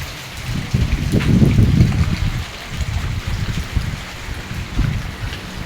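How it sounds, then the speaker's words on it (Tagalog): Heavy rain pours steadily in Cabiao, Nueva Ecija, Philippines, a dense continuous hiss and patter that swells slightly, then settles, with no voices. "Lakas ng ulan. Simula kanina ng maga, walang hinto."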